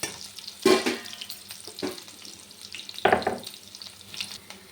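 Onions sizzle in a hot pan while being stirred, with a steady frying hiss broken by a few louder scraping stir strokes, heard close and alone.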